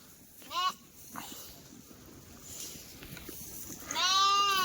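Kathewadi sheep bleating, a short call early on and a longer, louder bleat near the end, over faint background noise and a soft voice.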